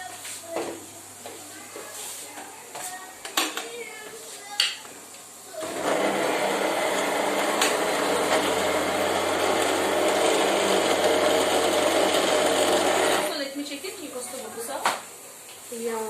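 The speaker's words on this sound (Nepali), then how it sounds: "अब एकछिन चाहिँ म मिक्सर चलाइदिन्छु।" An electric mixer grinder blends milk in a home kitchen, a loud steady whirring drone that starts abruptly, runs for about seven seconds without letup, then cuts off, with a voice talking faintly before and after.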